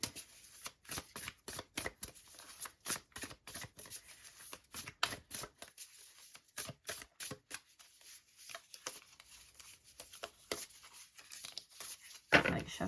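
Tarot cards shuffled by hand in a steady run of crisp riffling bursts, close and fairly loud with brief pauses between, no talking.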